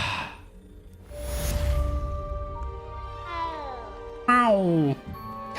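A character in the game Hogwarts Legacy makes cat-like meows and a drawn-out caterwauling yowl, several sliding cries of varied pitch, loud and close, with soft game ambience behind.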